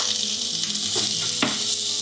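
Onions sizzle as they go into hot beef tallow and butter, a loud, steady hiss of frying with a couple of soft stirring knocks.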